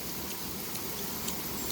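A soft, steady hiss of light rain drizzling on a mountain hiking trail in Tanay, Rizal, even and continuous, with faint scattered drop sounds and no voices.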